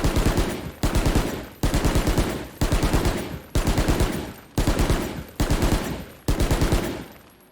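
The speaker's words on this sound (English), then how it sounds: "pay attention to the fire rate of this weapon" A weapon fires in Valorant in rapid automatic bursts, with eight short sharp volleys in steady succession, loud and close, without other sound.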